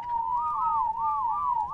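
Whistle command to tamed dinosaurs in ARK: Survival Evolved, a clear, steady, mid-loud warbling whistle with rising and falling tones repeated in a smooth loop, heard alone.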